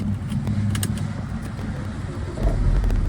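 A used car's engine idles close by with a steady low rumble, rising slightly near the end.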